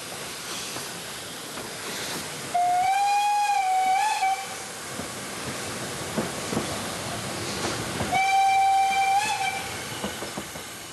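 A narrow-gauge steam train on the Selketal line in Germany's Harz mountains chugs and hisses steadily while its whistle sounds two clear, sustained blasts several seconds apart.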